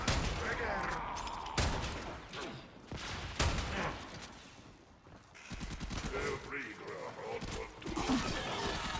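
Dense, continuous gunfire and laser blasts from the Warframe video game, with the volume surging and dipping, and a voice talking over it.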